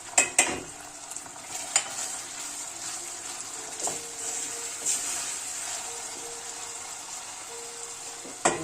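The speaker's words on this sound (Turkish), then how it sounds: "salçayı dökeceğim. Bir çay bardağı su koymuştum salçanın üstünde. Ondan sonra biberi dökeceğim." Tomato paste thinned with a small glass of water, then pepper, is poured into a cooking pot over sizzling chickpea and zucchini stew ingredients and stirred; a steady hiss runs throughout with a few sharp clinks of a spoon against the pot.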